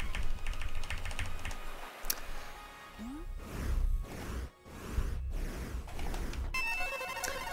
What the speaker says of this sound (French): vous aurez compris aussi que mon clavier fait du bruit.